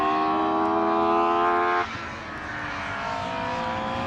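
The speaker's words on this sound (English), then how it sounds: "that just Mark II engine sounded so brilliant on the run towards the hairpin" A Ford Sierra race car with a V6 engine at a circuit race on Anglesey, loud sustained engine note holding high revs then dropping abruptly as it lifts, followed by a steady lower roar.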